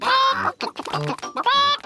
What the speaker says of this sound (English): Peppa, George, would you like to feed corn to the chickens?